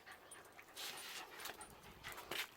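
A dog pants quietly nearby in quick, breathy huffs that repeat steadily for a couple of seconds, with no other sounds.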